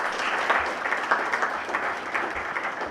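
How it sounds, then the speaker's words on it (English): Steady round of applause from students in a campus auditorium welcoming a guest lecturer, a dense wash of many hands clapping close and continuous with no talk over it. "Give a big round of applause"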